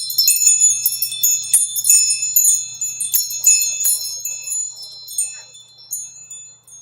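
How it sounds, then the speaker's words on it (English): Chimes ring with bright, shimmering metallic tones that overlap and fade in a loose, irregular run, struck several times and then left to decay into near silence. "I got chimes."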